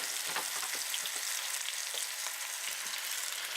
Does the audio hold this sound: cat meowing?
no